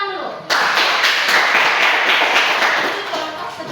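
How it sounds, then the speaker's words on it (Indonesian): A classroom of students breaks into sustained applause, a dense wash of clapping hands starting abruptly and continuing evenly at close range. "Tapi tepuk tangan dulu."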